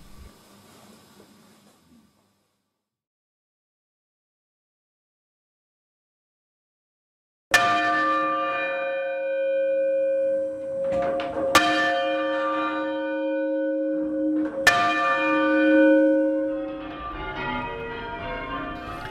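Church bells in Tynemouth, rung full circle with wheel and rope, strike three times after a long silence, each stroke ringing out with a long, resonant decay, fairly close and with no talk.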